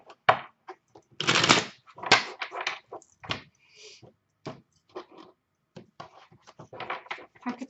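Tarot cards being shuffled by hand during a reading, giving irregular papery riffles and soft slaps in short bursts, close up and moderately quiet with pauses between.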